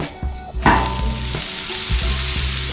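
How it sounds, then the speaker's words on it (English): Vegetables sizzle and crackle in hot oil in a pan, a steady close frying hiss with a few stirring knocks. "You love to hear the sizzle of all those vegetables and the oil doing its thing."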